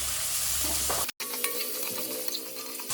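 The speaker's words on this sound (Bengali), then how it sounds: "বেশ অনেকটা পেঁয়াজ কুচি দিয়ে দিলাম পেঁয়াজটা একটু ভাজা করবো আমি" Chopped onion sizzles and crackles in hot oil with cumin, with a brief stirring scrape and a momentary gap in the frying sound.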